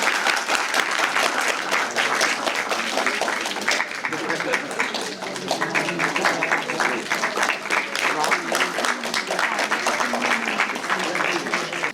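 An audience at an MOU signing ceremony between NSUT and NISTI claps continuously for the full stretch, dense and steady applause at even loudness, with voices mixed in.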